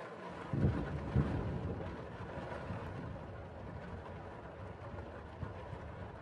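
Storm in the Suffer The Night game: a steady roar of wind and rumble runs the whole way, with a couple of heavier low thumps near the start.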